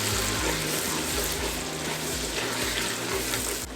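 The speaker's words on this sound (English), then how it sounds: "Wash off my potatoes." Tap water runs steadily into a kitchen sink as potatoes are washed off for Southern-style French green beans, a continuous close rushing hiss with a low rumbling hum beneath, no talking.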